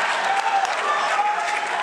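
A large audience at a Star Wars Celebration convention in Florida claps in sustained, dense applause, steady and fairly near, with no talking over it.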